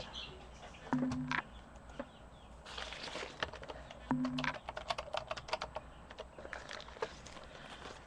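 Quick bursts of typing on a computer keyboard as a code is entered, close and clear with irregular rhythm, pausing briefly between runs of keystrokes, with light background noise.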